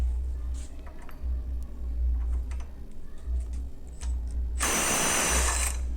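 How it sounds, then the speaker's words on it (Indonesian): A Makita TD172D impact driver loosening a 500 Nm bolt, starting after a low background hum and then hammering loudly and close with a dense rattling burst that runs to the end. "Menurut kalian mampu gak nih impact driver ini membuka baut ini?"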